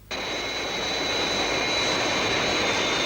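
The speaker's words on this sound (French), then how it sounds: "Mais c'est l'avion où est Tintin." Loud, steady roar of a jet-engine airliner, the Fire Flash atomic transcontinental plane, whining high above a broad rushing drone; it starts abruptly and holds constant, with no voices over it.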